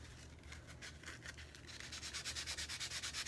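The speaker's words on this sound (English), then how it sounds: "just give it a light sanding scuff here" Steady back-and-forth rubbing of sandpaper lightly scuffing painted wood, soft and close, the strokes growing louder and more rhythmic toward the end.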